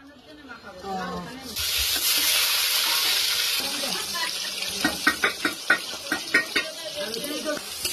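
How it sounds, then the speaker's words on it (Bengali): Marinated chicken for a village-style picnic curry hits a hot pan with a loud burst of sizzling, then continues hissing under rhythmic spatula scrapes and clinks, with people talking nearby. "ম্যারিনেট হয়ে গেছে, এবার কষা হবে।"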